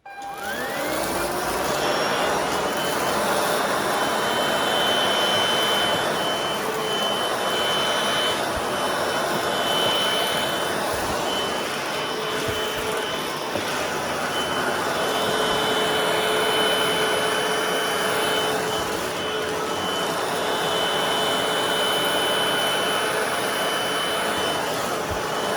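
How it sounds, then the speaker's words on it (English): A Hoover vacuum cleaner picking up a dry mess, a loud continuous whining roar with a high steady tone holding for the full stretch, close and unbroken with no talk. "let's pick that up using the Hoover"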